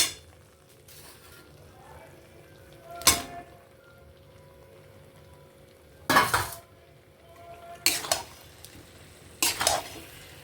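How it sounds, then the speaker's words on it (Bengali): Chicken stirs in a cooking pan for a stew-style meat curry: a low sizzle runs underneath while four separate bursts of scraping and clinking from a spoon against the pan come at irregular intervals. "এবার আমি এতে চিকেনটা দিয়ে দেবো"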